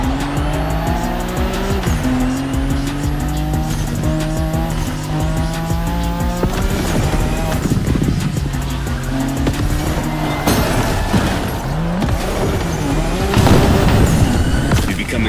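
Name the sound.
Nissan Skyline race cars in video game The Crew Motorfest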